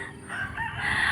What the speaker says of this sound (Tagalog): Ayan, ang daming manukan doon, oh. Ang daming manok, oh.